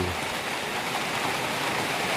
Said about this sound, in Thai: ฝนเริ่มตกมาอีกแล้วนะครับ